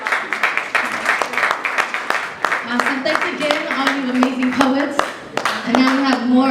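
An audience claps for poets at a live poetry performance, a dense run of handclaps close by, steady and sustained throughout with voices mixed in.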